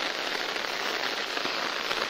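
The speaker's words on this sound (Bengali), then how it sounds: "বিশাল বৃষ্টি হচ্ছে" Heavy monsoon rain pouring down outdoors in a rural setting, a dense, even hiss of drops hitting surfaces, loud and continuous with no talking.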